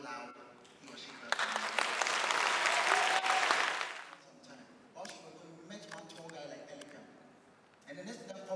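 A comedy show audience claps in a burst of applause lasting a couple of seconds, fairly loud against a quiet room, followed by someone talking and scattered reactions.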